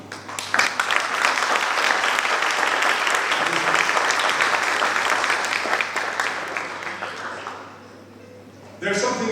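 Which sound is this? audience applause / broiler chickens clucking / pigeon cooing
audience applause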